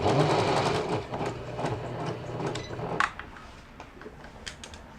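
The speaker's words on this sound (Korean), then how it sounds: "기계를 모두 조립하고 이제 시험 바느질을 하는 영상입니다" A Janome 810 home sewing machine runs a test stitch after repair, giving a steady mechanical whirr of needle strokes that is loud at first, then settles into a quieter running hum with a few sharp clicks.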